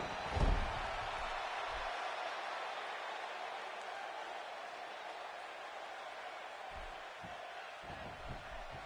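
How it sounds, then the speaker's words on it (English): A wrestling arena crowd roars steadily throughout, a dense, continuous wash of cheering and chatter with a brief loud burst near the start and scattered thumps later on. "by the sound of this crowd, I think they're getting what they wanted."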